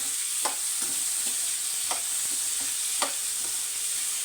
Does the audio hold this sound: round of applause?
no